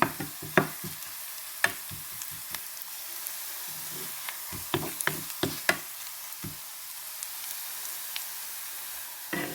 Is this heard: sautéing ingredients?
yes